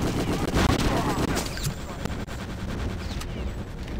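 Dense gunfire and bullet impacts striking the player in Return to Castle Wolfenstein, a steady loud rattle of shots that continues throughout, with a voice talking over it.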